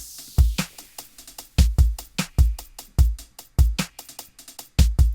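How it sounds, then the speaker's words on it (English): A punchy hip hop drum loop plays alone: heavy kicks and crisp snares in a steady, repeating rhythm. "But the drum beat by itself sounds like this."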